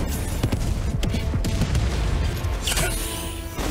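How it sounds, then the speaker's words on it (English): A grenade blast and combat din in Helldivers 2: rumbling booms and scattered gunfire run throughout, with a louder crashing burst late on, all loud and close. "Throwing grenade!"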